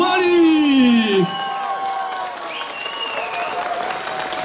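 A large outdoor crowd in Koszalin applauds and cheers to welcome home an Olympic medalist from the Tokyo 2020 Games. The clapping and whoops are steady throughout, with an amplified voice and sustained tones from a sound system over them.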